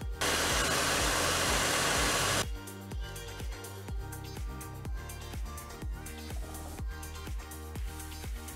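A heat gun blows a loud, steady hiss for about two seconds while softening the back-glass adhesive on a Samsung Galaxy S8 Plus. It cuts off abruptly, and a rhythmic beat follows.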